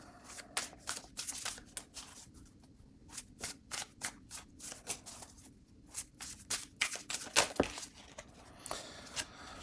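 A deck of tarot cards is shuffled by hand close up in quiet bursts, with repeated riffling flutters and soft slaps separated by short pauses.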